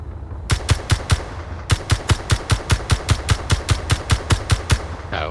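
Gunfire in the video game Escape from Mars: about twenty sharp, evenly spaced shots crack in a steady automatic rhythm, loud and close. A short pause comes early before the firing resumes.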